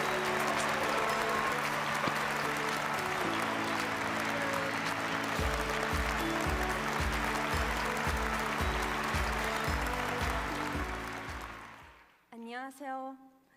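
An audience at an international conference gives a loud, sustained round of applause to welcome a speaker, with dense clapping that fades near the end before a voice begins to speak.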